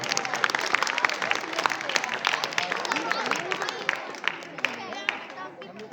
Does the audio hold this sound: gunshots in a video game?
no